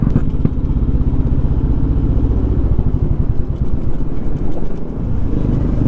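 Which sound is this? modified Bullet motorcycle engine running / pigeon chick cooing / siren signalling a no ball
modified Bullet motorcycle engine running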